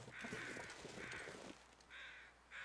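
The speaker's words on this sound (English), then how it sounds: "Oh, there's another bird." Crow-like caws from a bird in The Long Dark video game, two bursts of harsh repeated cawing with a pause between them, heard clearly over quiet game ambience.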